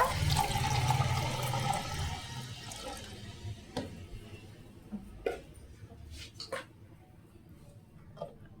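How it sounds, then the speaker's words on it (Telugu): About a litre of water is poured over jaggery to make a plant nutrient solution for leafy greens and flowers: a steady rushing splash for roughly three seconds, then quieter scattered drips and small knocks. "దీనికి వన్ లీటర్ వాటర్ వేసుకోవాలండి"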